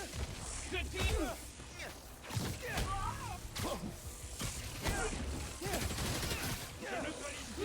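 Gunfire in the Spider-Man: Miles Morales video game, bursts of sharp mechanical shots and clattering impacts recurring throughout amid busy game effects, with speech from characters over it.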